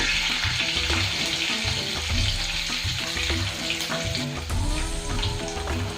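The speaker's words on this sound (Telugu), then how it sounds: "ఇప్పుడు పచ్చిమిరపకాయలు 3 పచ్చిమిరపకాయలు వేసాను. 1/2 స్పూన్ పసుపు పొడి వేసాను." Three green chillies and half a spoon of turmeric powder fry in oil for tamarind rice, giving a loud, continuous close sizzle with regular pulsing stirring strokes and no speech.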